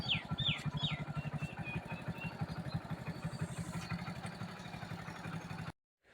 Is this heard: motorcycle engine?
yes